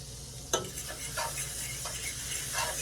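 Garlic stirred in a pan of sizzling butter for a Cajun chicken Alfredo, a steady close frying hiss with a sharp utensil scrape and a few softer stirring strokes, no talking.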